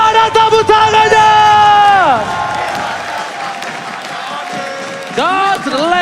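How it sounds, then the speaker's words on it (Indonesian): Crowd applause and cheering from an esports audience at the MPL ID Season 10 Mobile Legends playoffs, RRQ versus ONIC. A steady roar of clapping and voices sits beneath loud, sweeping electronic music tones that drop away and then return. "mana tepuk tangannya?"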